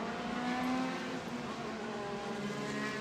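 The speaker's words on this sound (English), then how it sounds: "our second pace car brings our Formula Continental racers onto the Road America" Formula Continental race cars trailing a pace car onto the straight at Road America, a faint steady engine drone with sustained tonal whine, moderately distant and unbroken for a few seconds.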